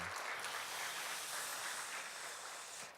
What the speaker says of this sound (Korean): 다시 한번 박수 한번 주세요